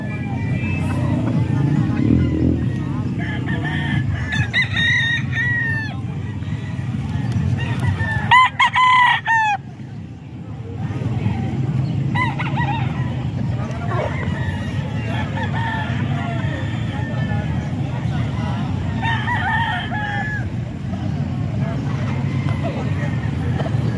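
Roosters crow again and again and chickens cluck at a Calumpit poultry market, loud and near, while people talk continuously beneath the birds and traffic noise hums in the background.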